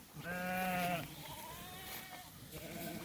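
Sheep in a flock bleat close by, one loud drawn-out call followed by fainter overlapping bleats, against a soft outdoor background.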